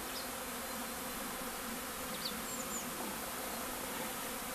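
Honeybees buzzing at beekeeper's hives: a steady, dense insect drone with no pauses, moderately loud and close, with a few brief higher whines passing over it and no voices.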